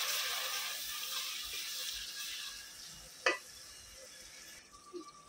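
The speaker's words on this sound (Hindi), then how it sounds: "टमाटर को अच्छे से भुनेंगे और मसाला डालेंगे।" Chopped tomatoes sizzle softly in a pan with browned onions while a spoon stirs through them, a steady quiet frying hiss with one sharp scrape of the utensil partway through.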